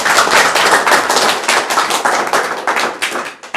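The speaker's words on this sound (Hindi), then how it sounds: "एक बार ताली बजाकर सहमति प्रदान करिए सभी लोग" A crowd of villagers claps together in agreement at a local gathering, a brisk burst of close, loud hand claps that thins and fades toward the end.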